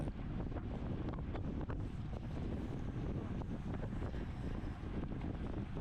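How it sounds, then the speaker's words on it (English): Steady roaring headwind buffets the microphone during an open Category 4/5 bicycle road race in California, with the rider near 30 mph climbing a short rise. The rush is loud, continuous and unbroken throughout. "Close to 30 miles per hour going up into this headwind here with the little kicker."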